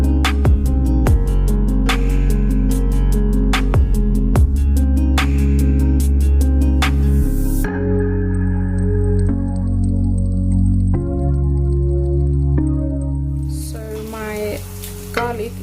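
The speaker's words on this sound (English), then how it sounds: "I'm going to now add my garlic, grated garlic." Grated garlic dropped into hot spiced oil and frying, a dense close sizzle with bursts of crackling and stirring clatter, easing to a quieter steady fry before a louder hissing flare near the end; background noise underneath.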